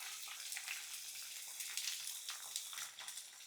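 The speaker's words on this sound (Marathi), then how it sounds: "तेल तापलं, गवार घालायची" Cluster beans sizzle in hot oil in a kadhai, about two spoons of oil, giving a steady, soft, continuous crackling hiss with small pops throughout and no talking.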